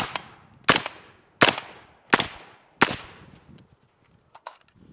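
Four sharp suppressed 5.56 rifle shots fired at an outdoor range through a Q Southpaw suppressor, spaced roughly evenly with short decaying tails, followed by faint clinks and handling noise.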